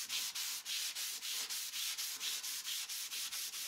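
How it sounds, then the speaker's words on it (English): A microfiber cloth buffs a piece of farmhouse furniture in quick, regular back-and-forth rubbing strokes, close and steady, with no voices. "So that tells me I need to do some buffing. So I'm just using a microfiber cloth."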